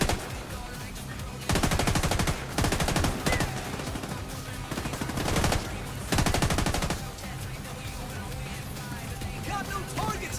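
Turret gun in a video game firing in several long automatic bursts, loud and close, with short pauses between them over a steady background hum.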